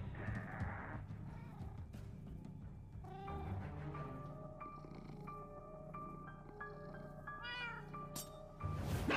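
A cat meows repeatedly in Minecraft: Story Mode, with drawn-out rising and falling cries over a steady musical backdrop and a louder cluster of meows near the end.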